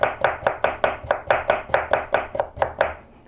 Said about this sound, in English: I'm lifting the knife and pushing it down, lifting the knife and pushing it down.